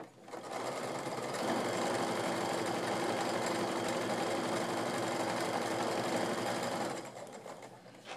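A sewing machine stitches a scant quarter-inch seam on quilt fabric, a steady fast mechanical whir that runs continuously for several seconds at close range before stopping.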